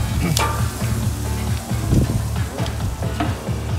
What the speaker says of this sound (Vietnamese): Thì đầu bếp này chiên về món nướng các bạn.